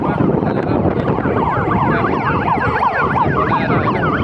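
Ambulance siren wailing loud and close in rising and falling sweeps during an accident rescue demonstration at a petrol pump, sounding continuously over heavy background noise.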